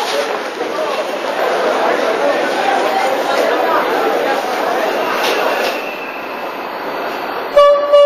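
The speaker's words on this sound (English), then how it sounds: "I'm taking the night train from Cairo to Aswan." Night train running from Cairo to Aswan, a steady broadband rumble of the moving carriage throughout, with a short horn-like tone near the end and a voice speaking over it.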